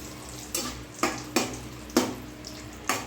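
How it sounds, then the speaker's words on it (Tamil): Cashews and raisins frying over low heat in a pan for bread halwa, giving a steady soft sizzle broken by about five sharp clinks or scrapes of a utensil against the pan. "பத்து முந்திரி பத்து திராட்சை போட்டு அதை வறுக்கணும்"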